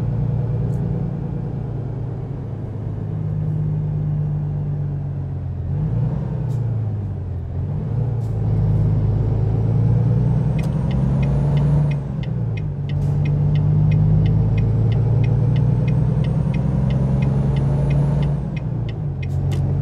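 A heavy Volvo truck engine in American Truck Simulator rumbles steadily and close, revving and shifting through gears with brief dips, a hiss of air brakes and small clicks over it.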